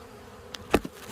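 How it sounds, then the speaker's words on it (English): Honey bees buzz while working on a hive frame during an inspection, with a few short, close buzzing passes, one louder than the rest, over a quiet background. "You can see the frames, the bees working."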